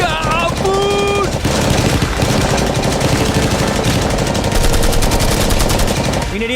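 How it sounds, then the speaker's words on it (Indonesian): Rapid automatic gunfire in a shooting video game where a Lamborghini is being protected, loud and dense, with continuous bursts layered over a busy game soundtrack throughout. "Cuma perlu 1 peluru buat nembus langsung ke Lambonya."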